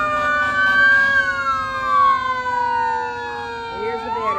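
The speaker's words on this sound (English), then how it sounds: "You can hear the sound of all those Federal Q sirens." Federal Q mechanical sirens on fire trucks in an Independence Day parade in Blue Island wail loudly and steadily, with several overlapping tones slowly sliding in pitch. A siren winds up again near the end.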